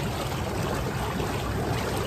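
Water running steadily from an outdoor shower at a treehouse holiday spot, a constant close hissing spray with no voices.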